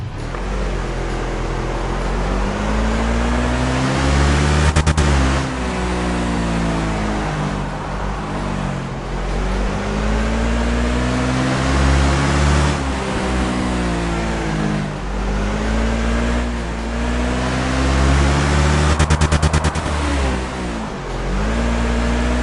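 Off-road buggy engine in Overpass 2, loud and close, revving up and down in repeated cycles as the vehicle drives and shifts, with a mechanical whine under a steady drone.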